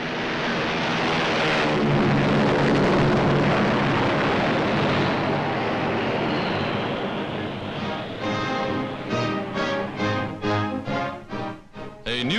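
A World War II era military aircraft roars loudly as it takes off down the runway, a heavy, sustained engine drone that gradually thins and fades into pulsing, wavering noise.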